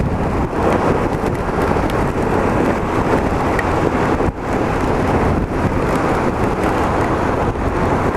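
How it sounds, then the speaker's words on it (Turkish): Strong night storm wind roaring steadily against the microphone while riding a motorcycle, a dense, continuous rumbling blast with no break. "insafsız şu anda rüzgar."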